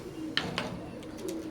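A pair of Teddy golden pigeons coo with low, steady murmuring, broken by a couple of sharp clicks or wing taps, close and moderately quiet.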